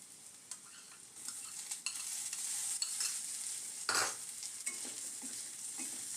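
Prawns tossed into fried spices hiss and sizzle in a hot pan for a Bengali red amaranth dish, with a spoon stirring and scraping at close range and no talk.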